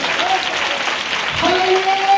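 A church congregation applauds in a steady, close burst of clapping throughout. Faint tonal voices or sustained notes sit underneath.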